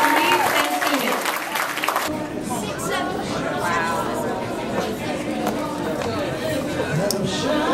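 Audience applause at a mentors' ball honoring 2011-2012 honorees and students: a dense, loud burst of clapping at first, then sustained crowd clapping mixed with chatter that continues steadily throughout.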